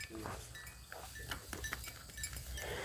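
Goats bleating on a farm where they are fed grass and crop leftovers, faint and fairly distant among low background noise and scattered clinks.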